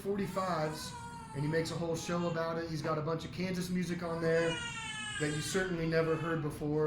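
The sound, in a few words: cat yowling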